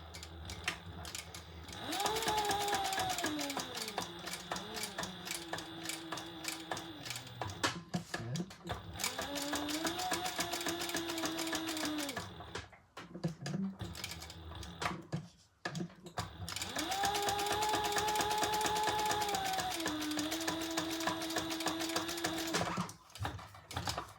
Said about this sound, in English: I'm just going to back stitch.